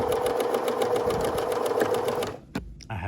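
A sewing machine runs steadily through a skirt waistband, its fast, even stitching rhythm close and continuous for over two seconds before stopping abruptly, followed by a sharp click and brief quiet handling.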